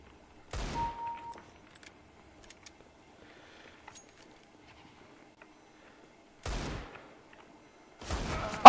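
Gunfire in the shooter game Counter-Strike: Global Offensive during a deathmatch: two or three short, sharp bursts separated by long silence, with a faint brief tone between them, fairly loud and close.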